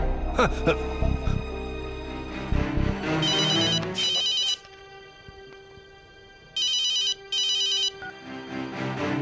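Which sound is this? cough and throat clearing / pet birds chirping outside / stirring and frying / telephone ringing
telephone ringing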